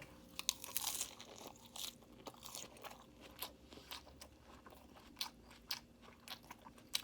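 Close, crisp crunching of a chicken cabbage wrap being chewed, with irregular bites and chomps repeating steadily and no talking.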